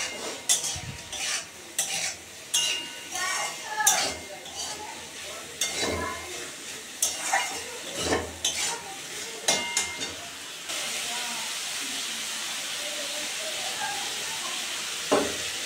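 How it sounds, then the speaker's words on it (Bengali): Spices with turmeric stirred in a frying pan, with a spoon scraping in irregular strokes over a soft sizzle that settles into steady hiss for the final seconds. "এখন নেড়ে দেব।"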